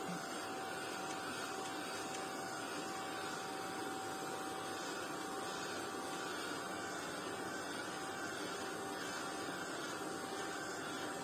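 A heat tool blows steadily at close range, drying Versafine ink on a card, a constant loud whooshing hiss with no speech.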